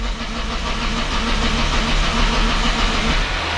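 A car engine in a rough, run-down car being tried during a demolition session churns as one steady, loud, unbroken rumble for the whole stretch, with no clear rise in revs.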